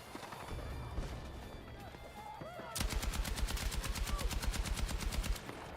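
Rapid automatic gunfire in Battlefield 6 multiplayer, quieter scattered shots and movement at first, then a sustained close burst of evenly spaced rounds, with a voice talking over part of it.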